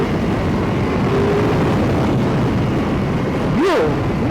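Ducati Monster 696 motorcycle engine on a test ride, a loud continuous roar with wind rush throughout and a quick rising rev near the end.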